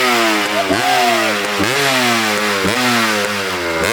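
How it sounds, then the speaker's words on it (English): A two-stroke Kawasaki KX500 motorcycle engine, set in a modern aluminium frame, fires into life and is revved hard, its loud, close, raspy note rising and falling in repeated blips with no voices over it. "listen to the baby start up, see if we can fire it into life"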